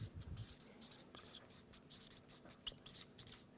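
A marker writes and draws pillars on a board during a business talk on agile, giving quiet irregular scratchy strokes with short pauses and no speech.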